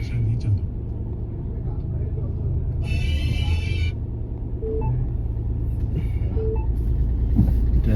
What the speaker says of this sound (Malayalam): സോ നമ്മളിവിടെ വണ്ടി സ്റ്റാർട്ട് ചെയ്തു